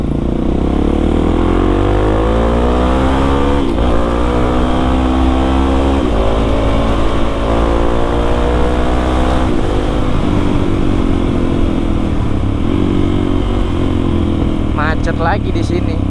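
A Suzuki DRZ 400 supermoto motorcycle riding through Bandung city traffic, its steady close engine drone rising and falling in pitch as it shifts through gears, with constant wind rush throughout.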